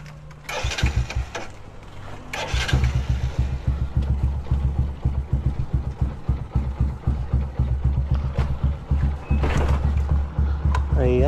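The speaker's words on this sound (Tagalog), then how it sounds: "Labas na natin at painitan na natin yung kanyang makina." Motorcycle engine warming up: it starts after a couple of cranking bursts, then settles into a loud, steady, throbbing idle that runs close by for the rest of the clip.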